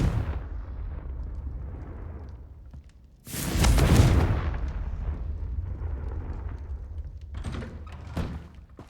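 A Confringo blasting spell in Hogwarts Legacy goes off with one loud, booming explosion that rumbles and fades over a second or so, set among quieter game ambience and a few smaller impacts afterward.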